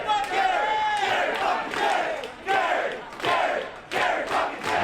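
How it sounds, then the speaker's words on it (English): Wrestling crowd at Kanza Hall chants in loud, rhythmic rising waves, repeated several times and filling the space. "As you can hear the crowd solidly."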